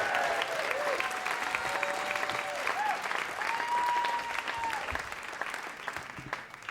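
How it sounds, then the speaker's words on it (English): An audience claps for storyteller Drew Prochaska at a Moth GrandSLAM, a dense sustained round of applause with a few faint cheers and whoops above it, tapering slightly near the end. "a big round of applause now for Drew Prochaska"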